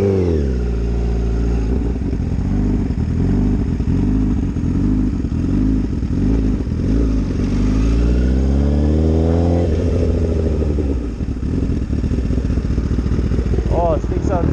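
A Honda CBR1000RR motorcycle engine heard loud and close while riding. It revs up and down through the gears with strong, wavering engine tones under constant wind rush.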